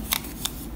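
Scissors make two quick, crisp snips while cutting paper along a line for a puppet theater craft project, with a quiet background between the cuts.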